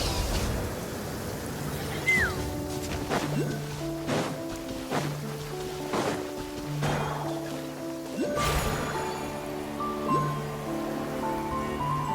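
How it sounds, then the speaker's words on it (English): Rain falls in the Genshin Impact video game, a steady soft patter under layered game music with chimes and brief impact hits, moderately quiet and without talk. "Rain."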